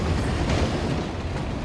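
Train in the video game Uncharted: The Lost Legacy rolling along rails, a loud, dense, continuous rumble with rattling wheel clatter throughout and no speech.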